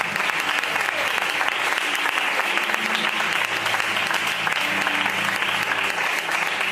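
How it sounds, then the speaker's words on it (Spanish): A church congregation applauds the Lord with steady, dense clapping from many hands that stays even and fairly loud from start to finish, with a faint murmur of voices underneath. "Dale un aplauso al Señor."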